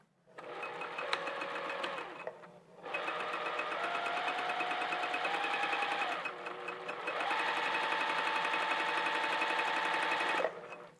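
A sewing machine stitches back and forth on a Phoebe top in three sustained runs separated by short pauses, a steady whirring hum whose pitch shifts slightly as the speed changes.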